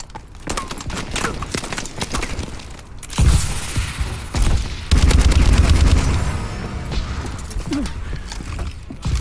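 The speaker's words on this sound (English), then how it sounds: "This feels like it's an automatic shotgun" Rapid automatic shotgun blasts in the game Call of Duty: Advanced Warfare, a run of loud booming shots in the middle with quieter firing around it.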